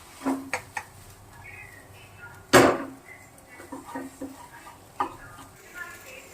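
Food being stirred in a pan over a high flame: scattered scrapes and taps of a utensil against the pan, with one loud clattering scrape near the middle, close and fairly quiet overall.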